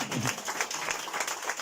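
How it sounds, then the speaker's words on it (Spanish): Church congregation clapping during a Spanish-language service, a brief burst of scattered applause that fades quickly, with faint voices mixed in. "Aplauda, no tengan miedo."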